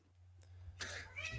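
A pet cat meows a couple of times close by, short rising calls over a steady low household hum.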